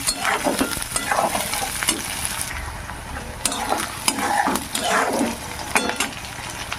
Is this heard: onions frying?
yes